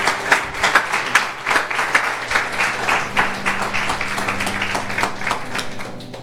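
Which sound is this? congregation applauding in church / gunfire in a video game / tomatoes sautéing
congregation applauding in church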